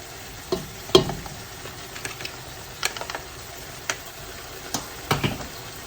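Tomatoes and freshly powdered garam masala roasting in a pan for a Sri Lankan mutton biryani: soft continuous sizzle with scattered light clicks and scrapes of stirring, fairly quiet, no talking.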